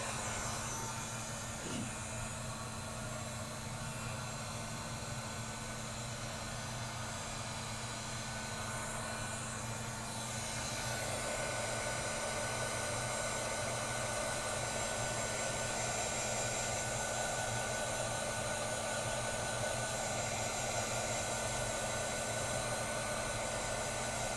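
A heat tool blows hot air onto colored shimmer items for a succulent terrarium, a steady broadband whooshing roar running unbroken and fairly close, growing slightly louder partway through, with no talking.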